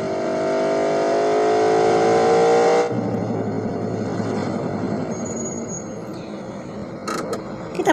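A Ferrari racing car engine in a driving video game revs with a steadily rising pitch for about three seconds, then drops to a rough, steady rumble, with a few sharp clicks near the end.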